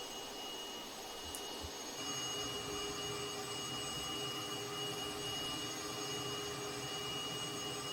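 Jet engines of a Cessna T-37 Tweet in the FS2020 flight simulator run at full power, a steady loud roar with a high whine that intensifies after two seconds and holds constant to the end.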